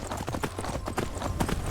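Horse hooves in Skyrim clip-clop in a quick, even rhythm, close and fairly loud, with no talk over them.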